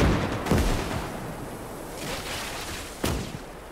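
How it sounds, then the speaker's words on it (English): Anti-tank grenade blasts in the WWII shooter OstFront on the Talvisota map: two sharp, broadband explosive bangs about two and a half seconds apart, with rumbling decay and a few fainter thuds of distant gunfire between. "I'm gonna have to AT grenade him"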